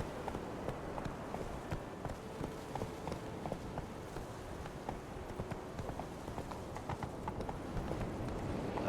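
Horse hooves clip-clop at a steady trot in the video game Witcher 3, a continuous rhythmic patter of hoofbeats close by, running the whole stretch without talk.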